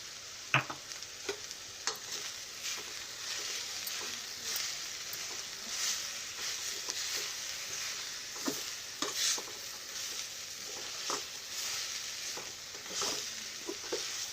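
Drumstick leaves fried with ground lentil powder in a pan, stirred steadily, giving a continuous close sizzle broken by repeated scraping and clinking spoon strokes, with no talking.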